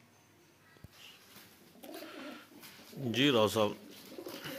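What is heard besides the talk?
pigeons cooing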